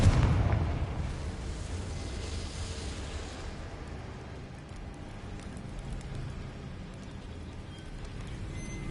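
A Confringo blasting spell exploding in the Hogwarts Legacy video game: a sudden low boom at the start that decays into a rumbling, crackling wash of debris and ambient noise lasting several seconds.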